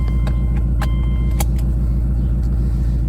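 A 2005 Subaru engine idles up close, a steady low rumble with an even pulsing rhythm and a few light clicks and jingles over it, loud and continuous, with nobody talking.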